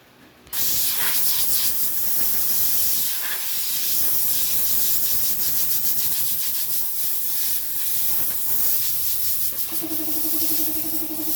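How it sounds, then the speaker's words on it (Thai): Steady, loud rushing hiss of compressed air blowing continuously across the radiator of a Mitsubishi Pajero Sport, with a brief tonal whine joining near the end. "เดี๋ยวเราจะได้เป่าตรงแผงหม้อน้ำกันให้นะคะ"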